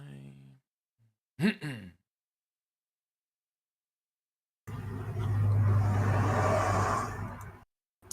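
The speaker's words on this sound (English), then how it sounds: "Chat, is my traffic too distracting?" Road traffic passes outside, heard as a car's rising and falling whoosh for a few seconds after a short human sigh and a brief silence.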